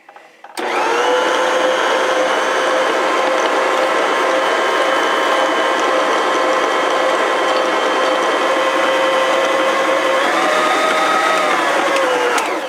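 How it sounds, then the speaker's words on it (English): An electric blender or food processor mixes coffee shortbread ingredients in a kitchen, with a steady loud whirring hum that starts abruptly and runs continuously, its pitch shifting slightly near the end. "Okay, now we're going to blend this together."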